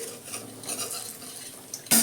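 A utensil scrapes and clinks in a pan as fried potatoes are lifted out, with a faint sizzle underneath and a sharp metallic clatter at the end.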